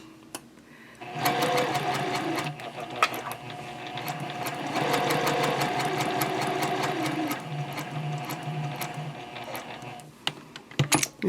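A sewing machine stitches an elf Christmas stocking, running in a steady rapid whir of needle strokes for several seconds, pausing briefly and restarting, with light clicks near the end.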